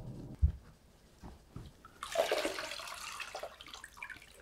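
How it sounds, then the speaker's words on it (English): Cold running water from a tap splashes over freshly made butter being rinsed in a bowl, a steady close wash of water that starts after a soft thump and a few quiet handling noises. "I'm now washing the butter with the cold water"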